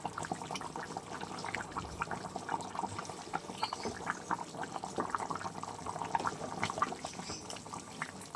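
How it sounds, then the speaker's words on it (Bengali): Egg curry simmers in a pot with soft, irregular bubbling and popping, fairly faint and close, continuing steadily for several seconds without any talk. "চলো আর একটু ফুটে নিই, তারপরেই নামিয়ে নেব।"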